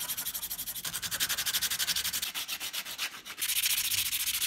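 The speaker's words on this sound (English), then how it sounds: "there's a lot of sanding needed." Rhythmic back-and-forth sanding strokes on small wooden model engine parts rasp close up, a quick steady scratching with brief pauses, then speeding up near the end.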